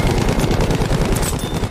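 A plane's strafing run in Battlefield V lets loose a dense, loud burst of rapid machine-gun fire, rattling continuously for under two seconds with no talk.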